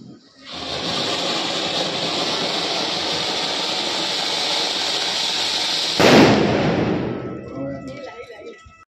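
Diwali firecrackers burst in a dense, continuous crackling roar lasting several seconds, with a louder pop near the end before it fades.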